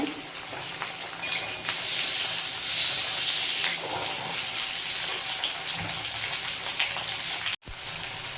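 Tomato frying with chicken in a hot pan gives a continuous dense crackling sizzle, close and steady with slight swells, no talk over it.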